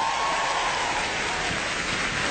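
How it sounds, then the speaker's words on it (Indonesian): Steady applause from a stand-up comedy audience, a continuous dense clapping roar holding at an even level for the whole short stretch, with no talking. "boleh tepuk tangan?"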